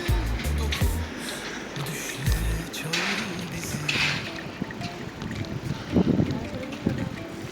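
Strong wind at Şarköy roars and buffets the microphone in uneven gusts during a bicycle ride, a low rumbling rush that never lets up.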